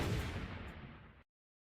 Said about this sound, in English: an explosion tore through the air like a thunderclap